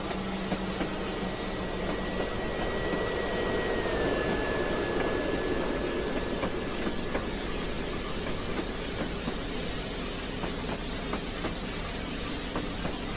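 A train rolls past with a steady mechanical roar and a faint rhythmic clatter, holding a constant level throughout with no voices, in the Train Simulator 2019 game, running from Yarmouth to Norwich.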